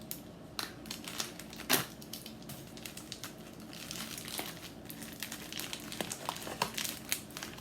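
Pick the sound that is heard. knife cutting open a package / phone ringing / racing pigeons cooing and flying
knife cutting open a package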